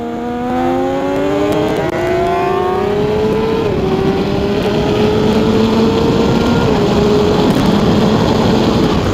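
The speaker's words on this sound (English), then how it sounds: "But this exhaust is still way too quiet." A loud motorcycle exhaust drones steadily with rising and shifting pitch, like accelerating through gears, constant and close throughout.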